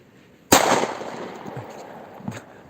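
A single sharp bang of a firecracker on New Year's Eve, close and loud, followed by a brief rumbling decay and a couple of faint knocks.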